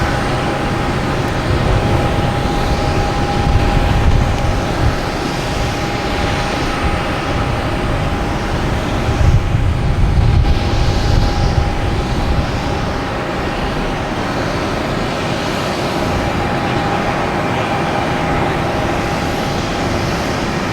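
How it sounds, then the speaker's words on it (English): An American Airlines Embraer E175 regional jet takes off from Boston Logan, bound for Indianapolis, its steady broadband engine roar holding loud and even throughout with a faint sustained tone above it. "we also have a American Airlines taking off heading to Indianapolis"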